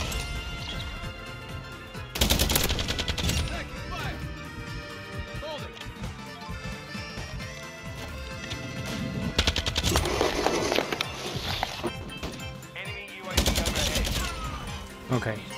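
Rapid automatic gunfire from a video game, with bursts of machine-gun fire and sharp crashing impacts repeating over several seconds, loud and close, with continuous game sound underneath.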